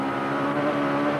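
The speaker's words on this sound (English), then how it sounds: "the noise from Rowe's engine suggested problems" A Formula Rally Championship car's engine, troubled and losing power, drones at a steady, loud pitch on a Scottish rally stage in 2001, with no change in revs across the brief stretch.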